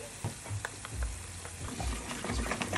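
Minced meat is stir-fried with five-spice powder in a wok, with repeated spatula scrapes and tosses over a steady, close sizzle.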